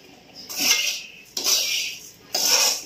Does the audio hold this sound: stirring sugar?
yes